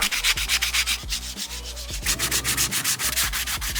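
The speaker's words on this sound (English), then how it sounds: "I need to clean it all up with this sheet of sandpaper" Steady back-and-forth rasping of a sandpaper sheet on a wooden dresser, rhythmic strokes repeating close up with no voices.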